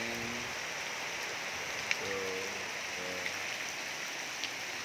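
Rainwater runs off roof tiles during a downpour, a steady soft wash of falling water with occasional closer drips and splashes, no voices.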